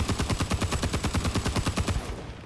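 Heavy automatic gunfire in Rising Storm 2: Vietnam, a loud, close, rapid burst of evenly spaced shots rattling continuously for about two seconds before cutting off.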